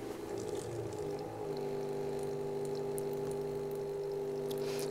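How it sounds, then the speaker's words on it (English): Pump of a buffer filler system (625FS) runs while circulating distilled water, giving a steady, even mechanical hum with sustained tonal drone, faint liquid trickle and no talking. "You can then turn the pump on again."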